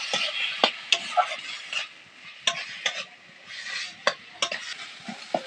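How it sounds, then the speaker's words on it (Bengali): Minced chicken stir-frying in hot oil in a pan, cooked until dry for chicken tikka chaat: a steady sizzle broken by repeated scraping strokes of a spatula against the pan. "এবার এই মাংসের কিমাগুলো দিয়ে দেবো। দিয়ে মাংসের কিমাটা দিয়ে কিছুক্ষণ ধরে কষিয়ে নেবো ভালো করে।"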